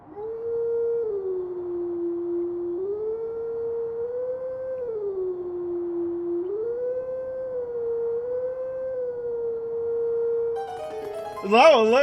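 A wolf howls in the video game The Legend of Zelda: Twilight Princess, a long, clear, wavering tonal howl rising and falling several times, ending in a short burst of higher yelps.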